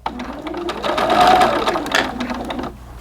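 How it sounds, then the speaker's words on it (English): Sewing machine stitching small doll pants in fabric, a steady mechanical whirr running close and loud for about three seconds and swelling slightly in the middle, with no talk. "We're going to go ahead and just sew that down."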